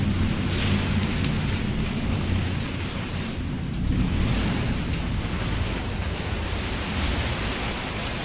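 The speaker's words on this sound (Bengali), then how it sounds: "এর মধ্যে কিন্তু বৃষ্টি পড়ছে।" Steady, dense rain hiss with a gusty roar of wind, continuous and loud throughout, no voices.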